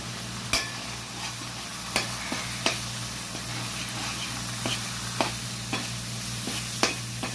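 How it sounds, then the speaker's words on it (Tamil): Chili powder spice paste sautéing in a pan for a Tamil fish curry, a steady sizzle under repeated sharp spoon taps and scrapes at irregular intervals, close and moderately loud. "சேர்த்து நல்லா இதை வந்து ஒரு கலவையாக ஆக்கி நல்லா போட்டு வதக்கிக்கணும்"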